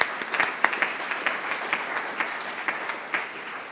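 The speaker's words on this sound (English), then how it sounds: "Let's give them all a round of applause." An audience at a Rotary club meeting gives a sustained round of applause. The clapping is steady and moderately loud, with a few louder individual claps standing out, and no talk can be heard over it.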